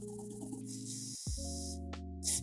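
Short hissing bursts of WD-40 aerosol spray on a restored IZH-5 gun, close and soft over a low mechanical hum, with a final quick spray at the end.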